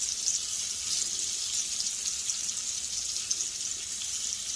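Jumbo shrimp, 8 to 10 count, dropped into a blazing hot skillet after salmon, giving a steady loud hissing sizzle with crackling pops throughout, close and continuous with no talking.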